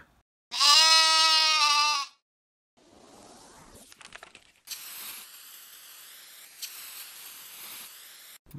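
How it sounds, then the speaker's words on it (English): Sheep bleating in a farm-animal sound sequence: one loud, sustained harmonic bleat up close, followed by softer rustling, hissing and a steady broadband background. "sheep."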